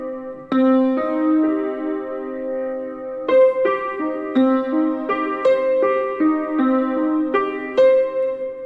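Minor chords on a keyboard ring out one after another, bright sustained tones struck in a steady rhythm, each note blending into a full chord.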